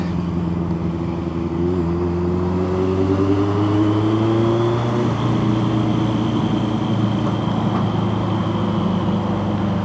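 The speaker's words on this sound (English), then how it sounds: "Listen to that exhaust." A motorcycle exhaust drones steadily nearby, its engine pitch rising slightly partway through, with no voices.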